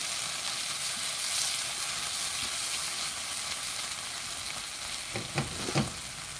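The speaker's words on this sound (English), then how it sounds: "I like stir frying the bean paste and stuff like that a little bit on the heat" Bean paste stir-frying in a hot pan gives a steady close sizzle and hiss, with a few soft stirring scrapes near the end and no voices.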